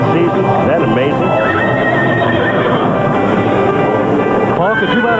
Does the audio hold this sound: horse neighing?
yes